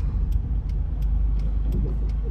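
A car rolls slowly along a residential street, a low steady rumble heard from the sidewalk with a few faint ticks over it and no talking.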